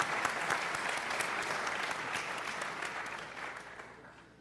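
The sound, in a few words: audience applause for speaker Jeff King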